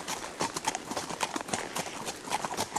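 Horse hooves clip-clop steadily on a trail at Moses Cone in Blowing Rock, North Carolina, a close, brisk rhythm of hoofbeats over soft outdoor background noise.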